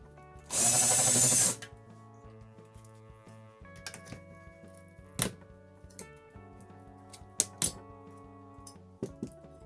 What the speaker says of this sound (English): I wonder if my drill is long enough.